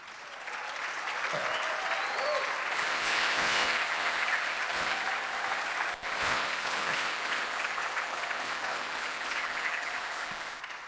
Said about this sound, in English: big fucking applause for the Startup Grind team